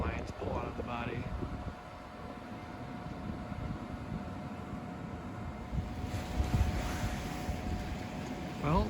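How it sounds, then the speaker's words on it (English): Strong wind gusts outdoors rumble and buffet the microphone as a low, continuous roar that swells near the end, with a person talking over it at the start. "the wind's really picking up, as you can see"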